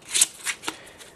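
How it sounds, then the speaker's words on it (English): A deck of playing cards gets a close ripple shuffle, with quick riffling bursts followed by fainter fluttering as the cards settle. No one speaks. "Then I just give the deck an ordinary ripple shuffle"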